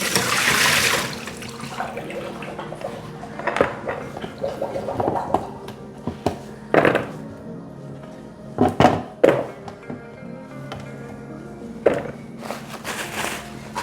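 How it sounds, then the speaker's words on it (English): Water dumped out of a bowl of soaked potatoes into a bucket during kitchen prep, heard as a near splash and pour followed by scattered thunks and clatters of the bowl, with no talking. "dump out the water"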